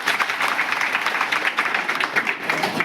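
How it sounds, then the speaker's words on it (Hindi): Applause from a village gathering of Basantpur gram panchayat residents, Mastūrī assembly area, honoring a guest; a steady, dense patter of many hands clapping throughout, moderately loud and fairly close. "मैं चाहता हूं कि सर के लिए एक बार जोरदार ताली बजे।"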